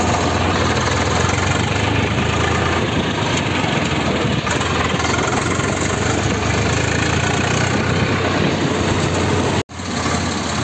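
An 855 tractor engine runs on a village path on the way to puddling a field, giving a continuous loud, rough, buzzing drone close by with steady clatter and no voices, cut by a brief dropout near the end.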